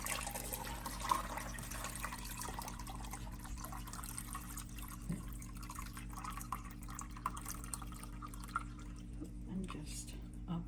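Water runs into a cooking pot filling it about three-quarters full in a home kitchen, a faint, steady trickle with soft drips, low and close throughout.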